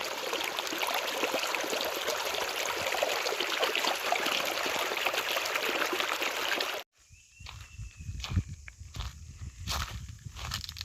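Steady rushing water of the Ilondi river flows for several seconds, then cuts off abruptly, leaving faint outdoor sounds and soft scattered noises.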